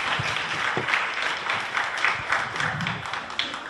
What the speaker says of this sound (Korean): 이 자리 함께 해주신 전정환 본부장님께 다시 한번 박수 부탁드리도록 감사합니다.